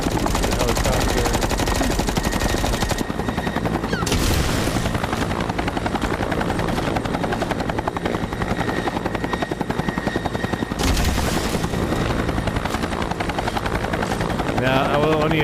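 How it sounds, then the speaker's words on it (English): A helicopter boss fight in the XIII 2019 remake video game: a loud rotor thrum runs throughout, pierced by rapid bursts of machine-gun fire and sharp gunshot blasts, with brief louder impacts and no voices. "The helicopter."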